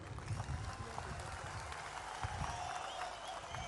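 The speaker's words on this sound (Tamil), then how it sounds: "இவங்களுக்கு ஒரு கை கொஞ்சம் கைத்தட்டல் கொடுங்க" A large crowd at an outdoor political party conference claps, and the applause sounds faint and distant. It is a continuous wash of many hands with a low rumble beneath it.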